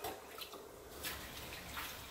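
Rinse water from washing collard greens drains out of a kitchen sink, a faint, soft gurgling trickle with small splashy bursts over quiet background.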